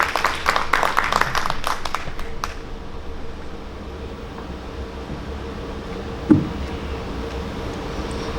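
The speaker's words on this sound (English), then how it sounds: "Give her an applause" Brief applause from a small audience at a children's book launch presentation: a couple of seconds of close, scattered clapping that quickly dies away into a quiet room hum.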